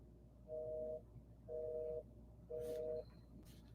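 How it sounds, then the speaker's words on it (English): A telephone busy signal beeps three times in even, half-second bursts, fairly faint, with brief background noise between tones after a call fails to connect. "It's ringing. It's busy. It's busy."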